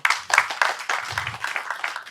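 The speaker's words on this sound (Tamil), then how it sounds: "அதுக்கு மிகப்பெரிய கைத்தட்டல கொடுக்கலாம்" Audience applause at an event, with a few sharp, distinct claps up front followed by quicker, uneven clapping from a small group, fairly close.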